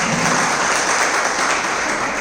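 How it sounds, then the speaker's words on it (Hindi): An audience at a Holi sermon on the story of Prahlad claps together in a loud, steady round of applause for a couple of seconds, with no speech over it. "इसीलिए ये त्योहार समझ में आ गया हो तो अच्छी सी ताली"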